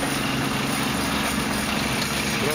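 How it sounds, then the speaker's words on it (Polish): An old tractor, roughly from the 1930s and in good working order, runs steadily at a harvest festival, its engine holding a constant close drone with a faint high whine through the whole moment. "Proszę, to jest ciągnik lat chyba 30. tamtego wieku."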